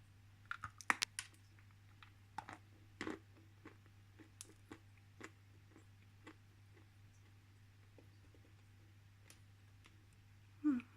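Bashkir blue clay is bitten and crunched close up, producing sparse, sharp crackling clicks and small snaps with pauses between, over a low steady hum.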